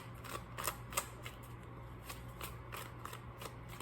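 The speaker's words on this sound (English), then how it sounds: "I'm going to shuffle it one time" Tarot cards being shuffled by hand, quiet crisp riffling flicks and taps in short irregular bursts against a low steady hum.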